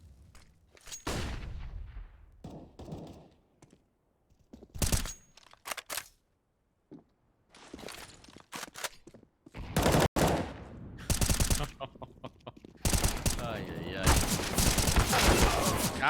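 Gunfire in Counter-Strike on the Anubis map during a pro esports match: bursts of rifle shots and rapid crackling volleys come in clusters separated by quiet gaps, growing denser toward the end.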